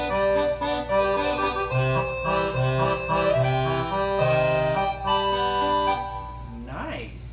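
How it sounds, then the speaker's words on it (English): An accordion voice on a Yamaha PSR-S950 keyboard plays a bouncy line of chords and bass notes at moderate volume, then stops briefly before one voice speaks near the end. "Accordion."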